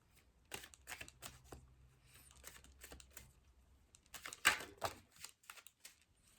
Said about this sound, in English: Some cards fell. I'm going to just put them back on the deck and shuffle more.